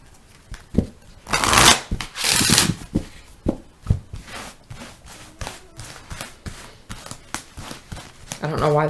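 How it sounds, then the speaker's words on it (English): Tarot cards being drawn and handled from a deck: close papery shuffling bursts and riffles, then repeated light taps and slides of cards, with a voice speaking at times. "I'm going to go ahead and draw 5 cards on this."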